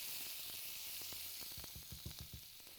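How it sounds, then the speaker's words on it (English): Minced onion sautés in meatloaf drippings, giving a steady close sizzle and hiss with scattered pops and a few stirring scrapes near the end. "We want to saute that onion just a little bit."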